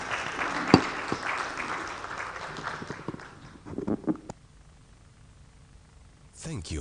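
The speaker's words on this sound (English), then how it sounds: "Give a round of applause for him." An audience at a banking technology event applauds a speaker, a scattered round of clapping that thins out and fades to near silence, with a few voices over it.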